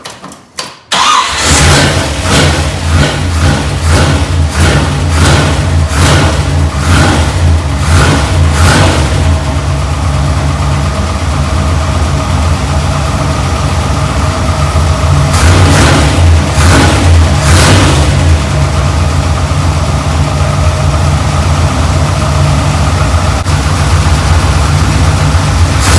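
A 1965 Corvette engine catches after a short crank and settles into a loud, close rumbling idle, with a run of repeated throttle blips early on and another cluster of sharp revs later.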